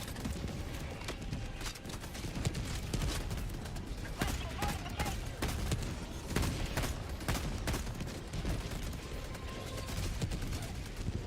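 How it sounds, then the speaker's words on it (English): Rapid automatic fire from a deployed sentry gun in the video game Helldivers 2, dense bursts of shots running steadily through the whole stretch amid other battle noise. "Calling down a sentry."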